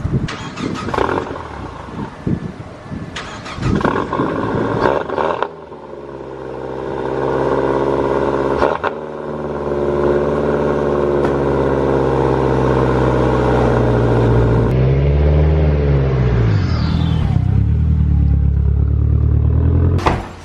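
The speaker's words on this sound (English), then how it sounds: "Get a nice little cold start on her." A Corvette engine cranks and catches on a cold start, then settles into a loud, steady, rumbling idle close by. Near the end there is a brief rev that rises and falls, and no one speaks.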